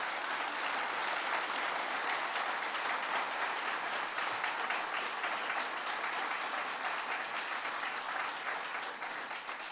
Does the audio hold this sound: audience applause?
yes